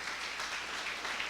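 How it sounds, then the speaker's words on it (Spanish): A church congregation applauds after a sermon point, a brief, even wash of clapping heard from a distance with no distinct individual claps. "Dale un aplauso al Señor."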